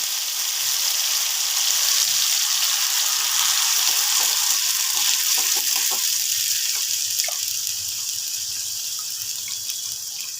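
Onion and garlic paste frying in hot oil and ghee for an egg rezala, giving a steady loud hiss and crackle of sizzling throughout, with faint stirring clatter.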